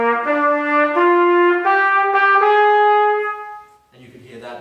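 Trumpet playing a short blues phrase, a few sustained bright notes stepping upward with slight scoops between them, close and solo, followed by a moment of quieter talk.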